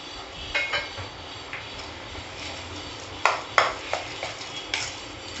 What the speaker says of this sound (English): And then I'm going to mix it well.